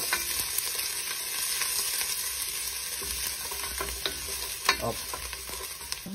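Garlic sizzles steadily in a hot wok for a pork stir fry, a close, continuous crackle and hiss with a few sharper pops and faint utensil scrapes, no voices.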